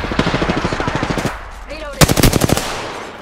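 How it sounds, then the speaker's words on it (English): Close machine-gun fire in the video game Apex Legends, a long rapid burst of evenly spaced shots, a short pause with faint whooshing effects, then a second loud, quicker burst that trails off. "They're shooting at me."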